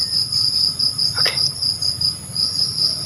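Crickets chirp steadily with dense high-pitched trilling throughout, in a quiet outdoor studio grounds setting at night, with a brief faint knock partway through.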